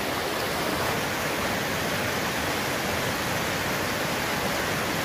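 A river runs close by at a waterfall on an island, its steady broadband rush loud and unbroken throughout with no voices.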